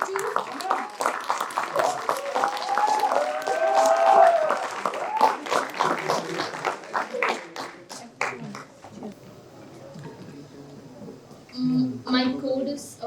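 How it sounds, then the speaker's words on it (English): An audience at a talk competition gives a contestant a round of clapping, dense and fairly close at first, then thinning into scattered claps and fading out, with a voice speaking near the end. "with a huge round of applause, let us welcome contestant number 22"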